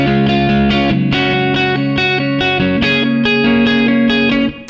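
Distorted electric guitar playing the chords and riff of a song in standard tuning, steady rhythmic picked strums with moving bass notes, loud and close with no talking.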